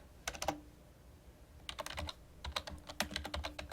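Typing a search on a computer keyboard: faint, quiet clusters of quick key clicks in short bursts with brief gaps, heard alone and close.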